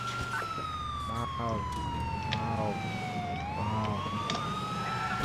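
An ambulance siren in Grand Theft Auto wails, sweeping up and down steadily over a low engine drone, with brief bursts of voices in the background.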